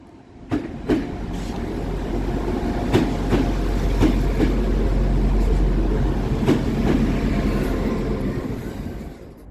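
A Transport for Wales Class 175 diesel unit rolls through Crewe station, a steady loud low rumble with repeated clickety-clack wheel beats over rail joints, close by and continuous for the whole stretch.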